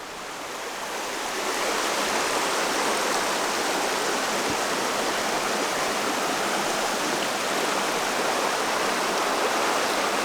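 The Mosquito River runs over bare solid rock, a steady, close rushing of water with a broad hiss that swells in over the first seconds and then holds constant, no voices present.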